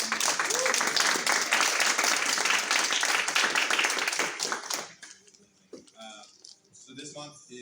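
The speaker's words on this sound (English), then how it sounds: "Let's give another big round of applause for both of those." Audience applauds after a free film screening, a burst of dense clapping that fades out after about five seconds, followed by quieter room sounds with a few scattered claps and faint voices.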